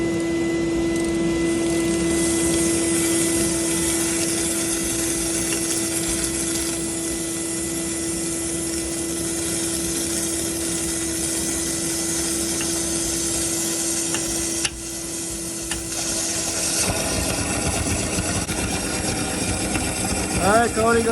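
A suction pump draws engine oil out of a 2007 Audi Q7, a steady close droning hum with a constant tone, briefly dipping near the end as the flow changes.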